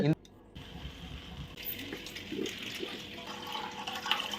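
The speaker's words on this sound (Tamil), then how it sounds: "15 செகண்ட்லயே தண்ணி ஹீட் ஆகி வர ஆரம்பிச்சிச்சு." Water runs steadily from an instant electric water heater tap into a sink, a soft hissing flow that grows fuller toward the end, with a voice speaking over it.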